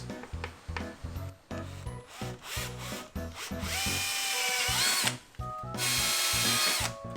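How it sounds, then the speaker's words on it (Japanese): A power drill bores holes from the back side of an interior panel in a Suzuki Jimny JA22 during restoration, with several short whirring bursts and then two longer, loud, close runs of drilling. "大体の取り付け位置を決めて裏側から穴開けしていきます。"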